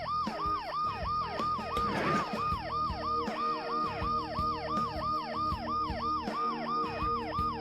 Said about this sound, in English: In spite of the noise I made breaking the glass and the ambulance's deafening siren,